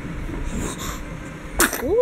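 A single sharp sneeze bursts out near the end, close and loud, after soft background murmur and faint voices.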